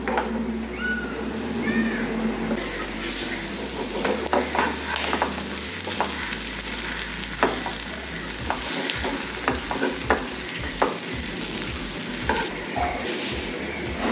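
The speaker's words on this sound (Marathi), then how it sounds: "इथे आपला अंडा फ्राय झालेला आहे" Egg frying with masala on a hot tawa gives a continuous close sizzle, with scraping and stirring taps from a spatula throughout.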